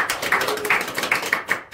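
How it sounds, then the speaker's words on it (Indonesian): Students in a classroom microteaching session applaud the presenting groups, giving a short run of fairly sparse, rhythmic claps from a small group, close by and without talk. "tepuk tangan untuk semua kelompok"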